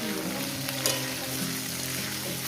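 Potatoes hit a hot frying pan in a home kitchen, where a fish curry with potatoes is being cooked, giving a steady, close sizzle and bubbling hiss that holds evenly throughout with no voices.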